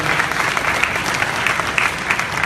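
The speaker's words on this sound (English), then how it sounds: "A round of applause for your servers that are taking care of you." Comedy club audience at Royal Comedy Theater in Hopkins, Minnesota, applauds the servers with steady, dense clapping from a full room throughout.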